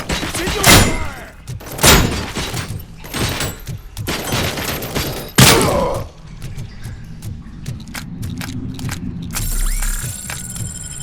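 Gunfire in the RoboCop: Rogue City video game: several loud bursts of shots in the opening half, then a quieter stretch of mechanical clicks, thuds and scattered impacts as the firing dies down.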